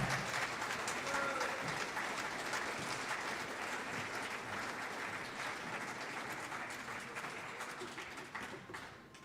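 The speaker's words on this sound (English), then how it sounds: "Give another round of deep applause for Precious Foreman" An audience at the DCPS Performing Arts Festival on the Millennium Stage claps steadily. The applause is dense and sustained, sounds moderately distant and fades slightly toward the end.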